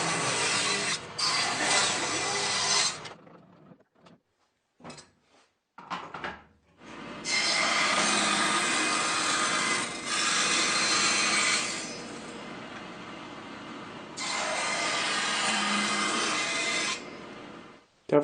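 Bursts of hand sawing and rasping on wood as a dovetail rail is cut and shaped, with strokes in long runs separated by short pauses and a few light knocks, close up and with no talking.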